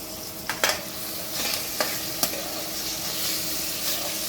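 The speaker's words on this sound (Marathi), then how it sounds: "तर मस्तपैकी हा परतू द्यायचा." Peanuts and half a tomato sautéing in a pan over ginger-garlic paste for a Vidarbha-style dal bhaji, a steady soft sizzle with a few sharp clicks and scrapes of stirring, fairly quiet and close with no voices.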